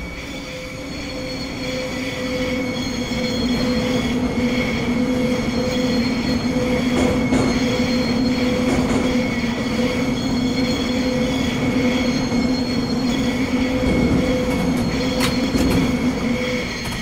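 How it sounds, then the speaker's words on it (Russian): A train being towed in the Garry's Mod video game rumbles steadily throughout, with a sustained rail roll and faint wheel squeal, loud and continuous with no talk. "Потому что вы буксируете состав, поэтому вам нужно чуть побольше дать ходу"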